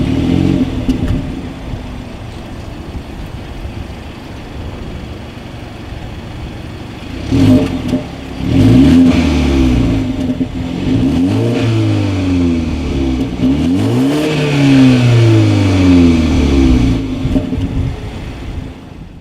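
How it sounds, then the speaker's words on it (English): A 2019 BMW 330i with dual chrome-tipped exhaust outlets idles, then blips its throttle in several sharp revs that rise and fall loudly, recorded close with no talking. "As always, here is that exhaust clip."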